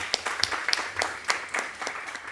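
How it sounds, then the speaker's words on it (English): Audience at a university book launch giving a round of applause, a few distinct clear claps in an uneven rhythm over a soft background of scattered clapping. "So you deserve a round of applause."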